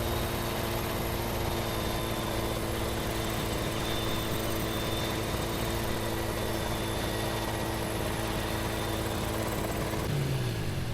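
A helicopter in Farming Simulator 17 with a steady rotor drone and engine hum running continuously throughout, loud and close, with no talking.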